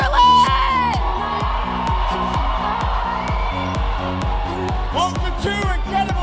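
A crowd at an opening ceremony cheers and whoops over loud, pulsing pumped-up music, with bursts of louder shouting near the start and end.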